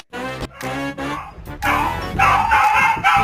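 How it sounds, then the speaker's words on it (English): A pet dog barks and yips in a series of close, loud, repeated barks that run almost continuously through the moment. "That's my dog."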